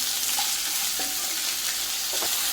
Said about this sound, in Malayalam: കനം കുറച്ച് അരിഞ്ഞതാണ് സവാള. നമുക്ക് വഴറ്റിയെടുക്കാം.